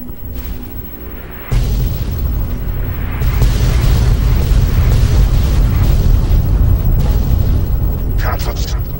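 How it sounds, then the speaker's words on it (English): A Red Chinese orbital strike detonating in Fallout 3 erupts as a loud, deep, rumbling boom that kicks in abruptly and keeps roaring steadily to the end, with crackling debris layered on top. "Red Chinese orbital strike imminent"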